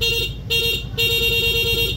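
Loud, harsh PIAA dual horn on a Yamaha Fazzio scooter blaring in rapid bursts, cutting off briefly and restarting, over a steady idling engine.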